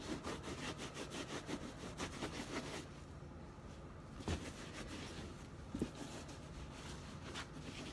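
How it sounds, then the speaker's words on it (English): Paint being rubbed onto a thrift-store item by hand, a soft, continuous scratchy rubbing in steady back-and-forth strokes, quiet and close, with a couple of small knocks and no voices. "I'm just going to rub this one"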